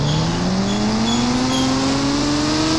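A motorbike engine in the Indian Bike Driving 3D video game hums loudly and continuously, its pitch rising gradually as the bike accelerates, with no talking.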